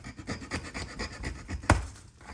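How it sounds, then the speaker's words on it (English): A hand-held metal file rasps back and forth across a die-cast Hot Wheels panel in quick rhythmic strokes, close and quiet, with one sharper knock near the end. "So I'm gonna file these out."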